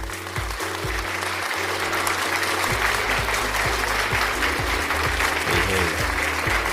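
Loud applause and cheering from a crowd, a dense, continuous clapping roar that holds steady for several seconds.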